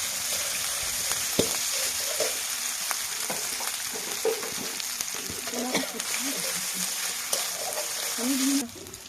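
Cumin paste sizzling and frying in a pan for a Bengali meat ghugni, with steady crackle and occasional stirring scrapes close up, no talk.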